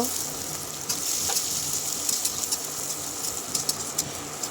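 Onions, green chillies and panch phoron fry in a pan, giving a steady close sizzle and crackle with scattered pops, and a voice briefly speaks over it.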